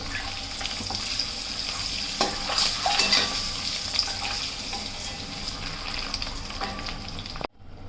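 Onions, green chillies and bay leaf sizzle steadily in hot oil for egg biryani, a close, continuous frying hiss with occasional clinks of a utensil, ending in a sudden cut.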